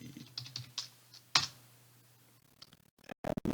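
Quick bursts of keystrokes on a computer keyboard as a username is typed into a Linux terminal, close and crisp, with a short pause before a final flurry of taps.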